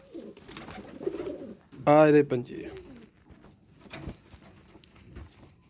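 Pigeons kept by a seller in Faisalabad give a short, close coo, with someone talking loudly over the birds before and after.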